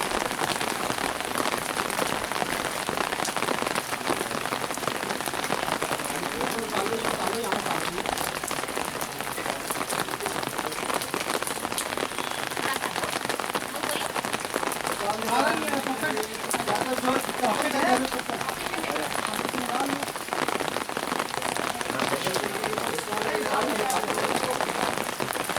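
Hail falls hard in a storm near Kausani, Uttarakhand, a dense, steady patter drumming on surfaces close by, with voices faintly heard under the continuous roar.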